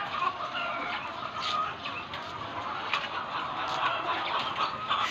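Crowds of chickens cluck steadily in a poultry farm in Baao, a dense, continuous chorus with overlapping calls that carries through the whole stretch, with no talking.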